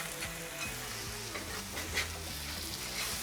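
A metal spatula scrapes smashburger patties off a hot griddle amid steady sizzling, giving repeated rasping strokes close up, with no talking.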